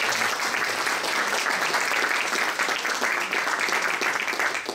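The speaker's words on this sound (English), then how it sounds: "A warm applause to Shenggen." Warm applause from a conference audience at the University of Bonn greeting a speaker, dense continuous clapping that stays loud and even throughout.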